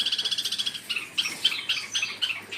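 Pet birds set out in the sun in a rabbit hutch chirp in a rapid, even run of tweets, then in scattered separate calls, fairly soft and close.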